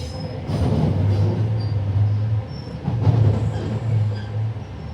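A Gold Coast line train in Brisbane crosses over onto another track with a steady rolling rumble, and drawn-out wheel squeals rise twice over the running noise. No voices are heard.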